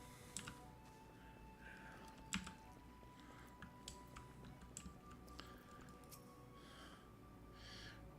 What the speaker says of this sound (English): Oh, you're already typing when I moved on to the second line.